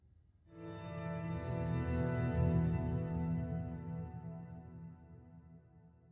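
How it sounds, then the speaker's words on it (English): A piano resonance layer drenched in a very long, thick reverb swells in after a brief silence, sustaining a dense wash of ringing tones that slowly decays over several seconds, heard alone. "add a very long and fat reverb to it"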